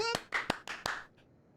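A person claps their hands about five times in quick, close succession, sharp and near, before the sound stops and a short quiet follows.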